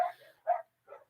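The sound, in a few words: dogs barking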